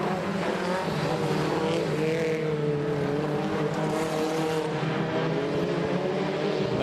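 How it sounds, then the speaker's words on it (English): Stock cars roaring around a Border Stockcars track on the final lap, a loud, steady blend of several engines droning together with shifting pitch as the pack closes in, without pause throughout. "that second group of cars are catching up pretty quickly there as the last lap"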